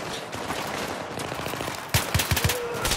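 Single shots from a rifle in the video game Battlefield 3 crack out as four loud, evenly spaced reports near the end, following a stretch of dense battle noise and scattered distant fire.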